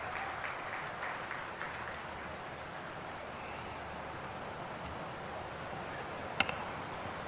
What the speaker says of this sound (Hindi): एक बार जोरदार तालियों के बीच में हम स्वागत करते हैं माननीय रक्षा मंत्री जी